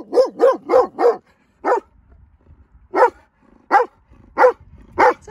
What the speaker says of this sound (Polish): ten ładny piesek idzie za mną i z otwartą paszczą